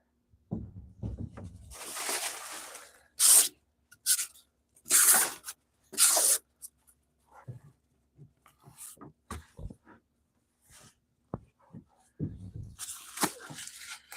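Bubble wrap and shipping paper are handled for mailing products: bursts of crinkling and rustling, several loud and close, separated by quieter handling sounds and pauses.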